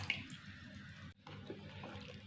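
Thin coconut milk poured from a cup into poha (flattened rice) and stirred for halwa, a faint close liquid splash and wet swishing, briefly pausing midway before the mixing resumes.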